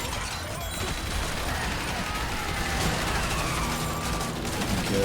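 An automatic turret in the zombie survival game Horde Survivor fires in a dense, continuous stream, with the shots blurring into a constant loud crackle and no breaks.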